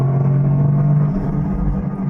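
Toyota Corolla GR with its 3-cylinder engine pulling hard under acceleration, a steady low engine drone with a strong sustained tone that eases slightly near the end, heard from inside the cabin with no talking.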